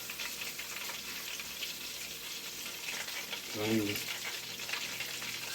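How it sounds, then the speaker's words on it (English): Food stir frying in a pan, a steady soft sizzle and crackle throughout, with a person speaking briefly in the middle. "I'm going to take this out and stir frying for some minutes now."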